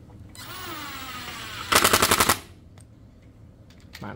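A cordless brushless impact driver runs up, spinning a screw into material without a pilot hole, then breaks into a loud rapid hammering burst for about half a second before stopping.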